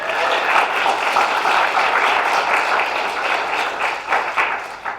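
Audience clapping at a business presentation, a steady wash of applause from a room full of people that holds for several seconds and starts to thin near the end.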